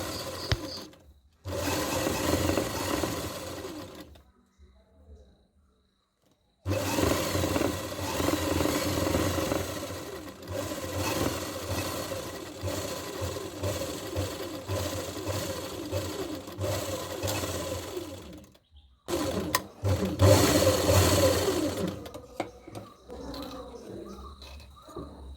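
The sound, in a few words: sewing machine stitching elastic thread layers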